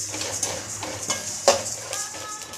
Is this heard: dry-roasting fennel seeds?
yes